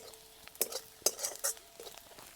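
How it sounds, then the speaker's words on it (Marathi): Turmeric, red chili powder, coriander powder and onion-garlic masala sauté in a pan, heard as a soft sizzle under a few sharp scrapes and clinks of a spoon stirring against the metal, close and uneven in rhythm. "चांगलं तिखट परतलंय."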